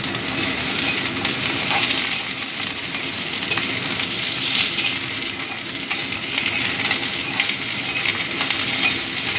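Butter garlic chicken pieces and their bones fry together in a pan, giving a steady, close, busy sizzle with light crackle and occasional stirring clinks, no talk.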